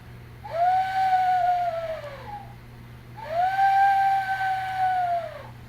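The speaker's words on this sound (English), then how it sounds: "That's our owl whistle, made out of wood." A wooden owl whistle blown twice, each a hooting, slightly falling tone about two seconds long with a pause between, close and clear over a faint low hum.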